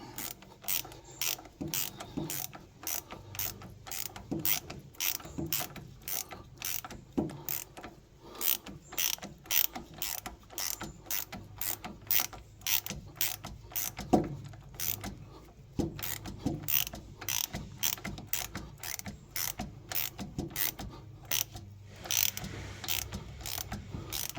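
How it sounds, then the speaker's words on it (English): An old bolt is wound into a brake caliper on a Land Rover Defender 130 TD5, a ratchet giving a long run of crisp, closely spaced clicks at a fairly even rhythm, near and alone. "We just wind an old bolt in."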